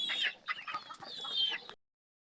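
Rhode Island Red chickens clucking in a backyard, a close burst of several rapid, scratchy clucks lasting under two seconds before falling silent.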